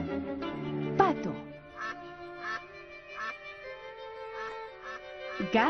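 A duck quacks repeatedly in a quick, nasal series of calls, close and fairly loud.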